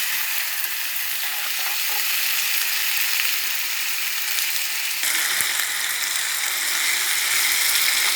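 Mee sua noodles stir-fried with shiitake mushrooms and wilting greens give a loud, steady sizzle close up, with a brief scrape of the spatula midway and no one speaking.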